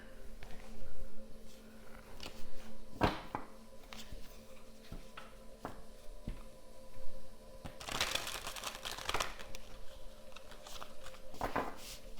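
A large deck of oracle cards is handled and laid out, with soft intermittent riffles, slides and taps close by, a few louder shuffling bursts standing out against a quiet room.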